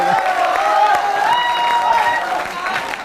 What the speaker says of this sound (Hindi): एक बार जरा मिलकर तालियां बजा दो ना